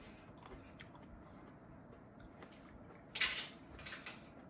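Crisp Sunny Dolce grapes being chewed close to the mic, with soft quiet mastication building to a louder crunchy bite near the end.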